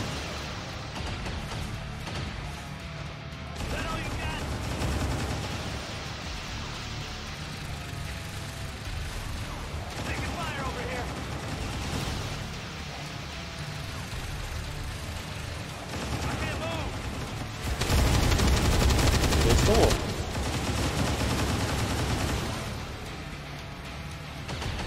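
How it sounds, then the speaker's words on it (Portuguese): Gunfire from soldiers in XCOM 2: War of the Chosen, a dense, sustained battle din of shots and blasts with a louder burst near the end, running continuously under a voice speaking. "Todos eles erraram o tiro"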